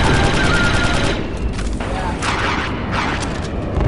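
Gunfire from an enemy gun position in the game Star Wars Republic Commando, loud bursts of rapid shots and booms rolling over a dense battle din, with a voice talking over it.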